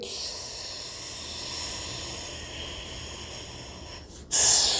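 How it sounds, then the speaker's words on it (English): Slow, steady breathing, with air drawn into the back while the spine rounds in a mobility exercise: a soft prolonged hiss of inhalation, close and alone, ending in a louder sharp rush of air. "Trying to breathe in the back."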